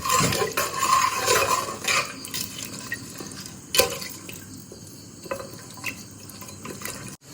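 A pot of goat leg paya curry with water, mint and coriander leaves is stirred, giving watery sloshing and metal spoon scrapes against the pot, busier at first and then settling into occasional clinks and drips.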